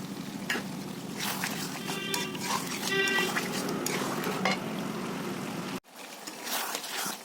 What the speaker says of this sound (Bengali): দেখুন আমি এইভাবে কষিয়ে নিচ্ছি জল দিয়ে দিয়ে ভালো করে।